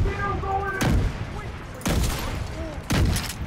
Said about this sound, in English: Fireworks! Oh, that's beautiful.